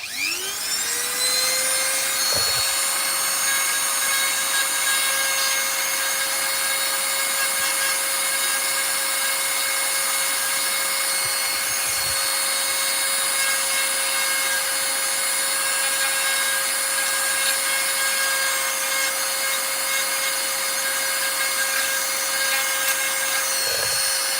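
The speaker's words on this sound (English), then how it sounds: "I'm quickly just going to drill these ones out" A power drill drilling into wood whines at high speed, holding one steady pitch for a long stretch with only brief dips, loud and close.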